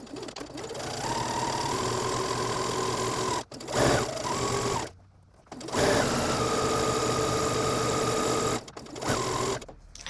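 A sewing machine runs steadily along the folded upper edge of a dress hem, a loud continuous mechanical whir broken by a couple of short pauses before it starts up again.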